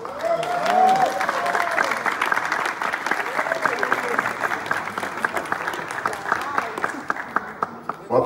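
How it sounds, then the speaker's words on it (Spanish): An audience applauds steadily for several seconds, dense clapping with a brief shout at the start, then thinning to scattered claps at the end. "Fuerte el aplauso"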